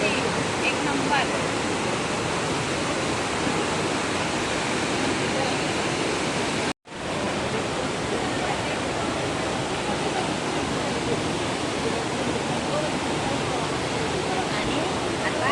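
Rautwadi waterfall in Radhanagari roars in full monsoon flow, a dense, loud, unbroken rush of falling water with one brief dropout midway.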